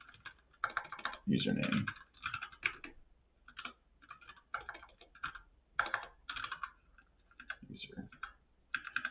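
Fingers type code on a computer keyboard in quick irregular bursts of clicks, close and fairly quiet, with someone talking over the keystrokes.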